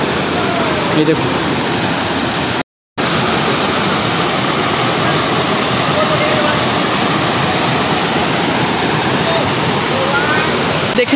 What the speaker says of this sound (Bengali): দেখে নিলাম আমরা তুঙ্গা ফলস